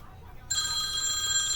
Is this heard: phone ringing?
yes